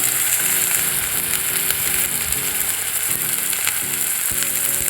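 Continuous loud sizzling of spices frying in hot oil, with occasional scraping and clinking from stirring.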